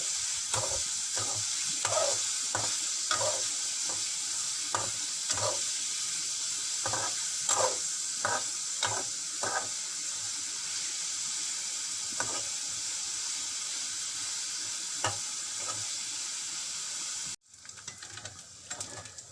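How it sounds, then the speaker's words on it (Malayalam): Small chicken pieces fry in a pan under a constant sizzle, while a spatula stirs them in repeated, fairly rhythmic close scrapes and taps. Near the end the sizzle briefly drops out and then returns. "ചെറിയ പീസുകളാക്കിയിരിക്കുന്നതിനാൽ പെട്ടെന്ന് തന്നെ നമ്മുടെ ചിക്കൻ ഇവിടെ വെന്ത് കിട്ടും നല്ലതോണം ഇളക്കി കൊടുക്കണം"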